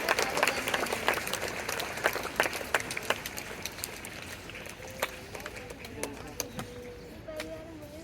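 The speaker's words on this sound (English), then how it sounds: "A big round of applause to all the" Audience applause at a school award ceremony, a fairly faint, sustained patter of many hands clapping, with scattered sharper claps and a voice briefly heard near the end.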